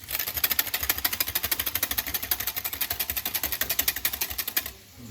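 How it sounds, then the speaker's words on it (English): Fast, steady whisking of egg and double cream for carbonara, a wire whisk ticking rhythmically against a bowl in quick even strokes for about five seconds, then stopping abruptly. "Give it a whisk again."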